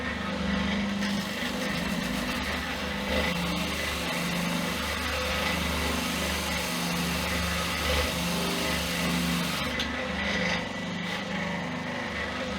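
A power sander scoops the back of a handmade wooden guitar neck. Its motor drones loudly and steadily at close range, with only a slight shift near the end and no talking.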